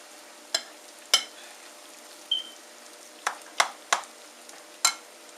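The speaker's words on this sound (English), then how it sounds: "And you just let them fry till they finish on one side." Salmon croquettes fry in a pan over a soft, steady hiss, with sparse sharp pops and crackles breaking through at irregular intervals.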